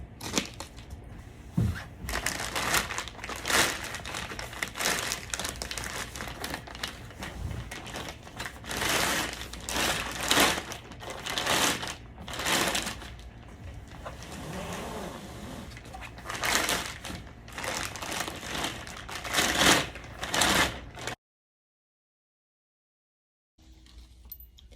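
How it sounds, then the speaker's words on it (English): Plastic sleeve being peeled off a packaged 1 3/8" AriA H-Rail R-TEC Automation single splice traverse system: a long run of loud, rapid crinkling and rustling bursts close by, ending in a brief silence. "Carefully remove the plastic sleeve"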